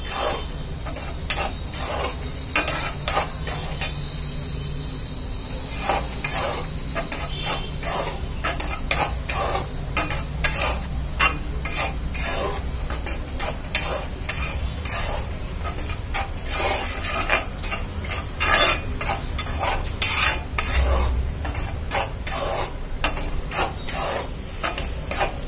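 Ragi flour dry-roasting in a pan on a low flame is stirred continuously, making rapid dry scraping and rasping strokes of a spoon against the pan, steady and close throughout.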